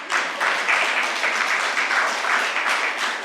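Loud, sustained applause from a press conference crowd in St. Thomas, thick continuous clapping close to the microphone with slight swells, no speech over it.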